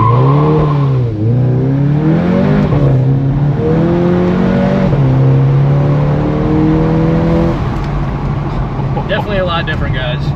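A Volkswagen Jetta GLI with a Unitronic Stage 1+ tune revs hard during a dyno launch control test, the engine note climbing and holding high in loud, steady pulls with someone talking over it.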